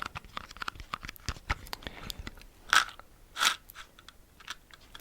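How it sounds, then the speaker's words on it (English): A small box of matches is handled close to the microphone as an ASMR trigger, giving soft crinkly taps, scrapes and rattles in an irregular rhythm, with two louder crackling bursts midway and no talking. "Like this little box of matches."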